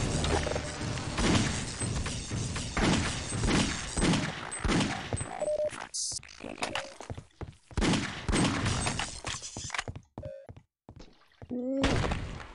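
Spore grenade blast from Half-Life: Opposing Force, set amid a dense barrage of gunfire and thudding explosions in the game, with loud bursty impacts, brief gaps and electronic tones, no speech.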